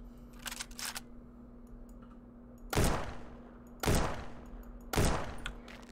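Three loud, sharp gunshots spaced about a second apart in the Alaskan video game ThreeStep, each with a short ringing tail, preceded by a few faint mechanical clicks over a low, steady hum.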